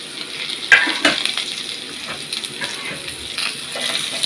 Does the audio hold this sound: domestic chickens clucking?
no